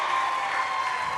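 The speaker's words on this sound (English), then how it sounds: "The louder you clap, the quicker I'll go off the stage." A talent show audience claps steadily in a brief, even burst of applause with no talk over it.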